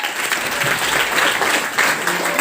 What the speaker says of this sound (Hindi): ताली हो जाओ सर के लिए